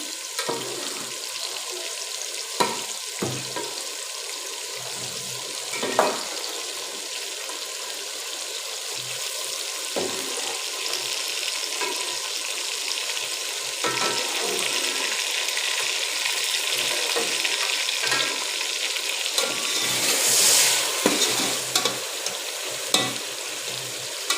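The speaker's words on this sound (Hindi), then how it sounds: "यखनी तैयार होगी है, और अब इस चिकन को थोड़ा सा भून देंगे" Chicken pieces taken from yakhni broth for pulao fry and get stirred in a pan, giving a steady close sizzle with scraping spoon strokes throughout, with no talking.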